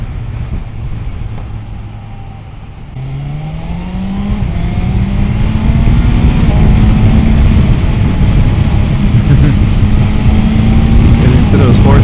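A BMW M1000XR motorcycle accelerating on the road, its engine note rising steadily through the gears over loud wind rush, close and continuous.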